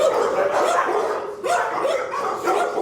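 Several dogs bark repeatedly at the Weber County Animal Shelter in Ogden, a crowded chorus of overlapping barks and yips, loud and close, with no talk.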